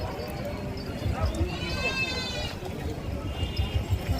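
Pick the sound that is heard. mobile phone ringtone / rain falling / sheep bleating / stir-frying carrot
sheep bleating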